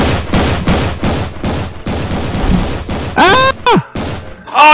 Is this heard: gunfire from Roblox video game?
yes